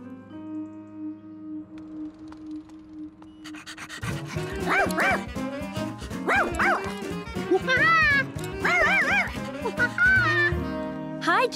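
Cartoon dog barking and panting in an animated children's show, with lively yips over background music and talk from the characters.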